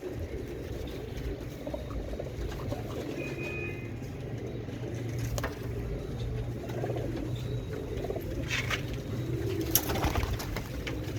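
Low coos of Salati Kamangar pigeons of the Bichu breed roll on steadily beneath a busy outdoor background, with a few sharper chirps and rustles mixed in.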